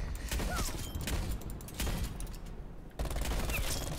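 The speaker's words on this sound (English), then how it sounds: "you can get kills with the M82 and you can kind of quickscope" M82 sniper rifle fire in the Black Ops Cold War video game, with several sharp gunshot bursts and mechanical clatter amid game noise, fairly faint overall.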